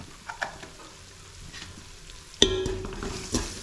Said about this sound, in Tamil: இப்போ இது எல்லாத்தையும் வந்து நம்ம எண்ணெயிலே கொஞ்சம் நேரம் வந்து அப்படியே வதக்கி விட்டுக்கலாம்